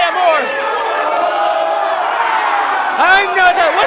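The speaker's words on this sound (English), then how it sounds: "Crowd counting along with every single strike." Wrestling crowd at a live indoor show chanting in rising, rhythmic unison as if counting along with strikes, loud and sustained with whoops and shouts swelling near the end.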